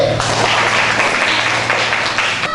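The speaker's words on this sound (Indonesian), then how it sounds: "Sekarang tepuk tangan untuk Niki." Children in a primary school classroom burst into dense, loud applause for a classmate, a brief wash of clapping that fades slightly at the end.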